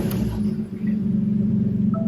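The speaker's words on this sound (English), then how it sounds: "Let me actually start the car." A BMW M3 Competition engine running right after starting, a steady low rumble close by with a brief dip near the start, then holding even with no talk.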